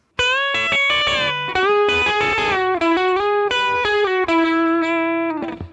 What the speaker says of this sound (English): combine both of those pedal steel looks to create an even longer extended passage